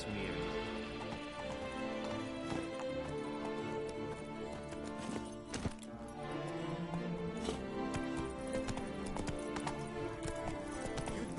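A horse gallops in Witcher 3: Blood and Wine, with rapid, steady hoofbeats close by that carry on throughout under background game sound, broken by a brief sharp snort or whinny midway.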